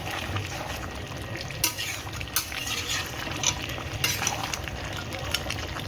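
Mutton kosha being stirred in a pan, with a soft continuous sizzle and frying hiss, plus occasional sharp scrapes and clinks of a spoon against the metal, close and fairly quiet.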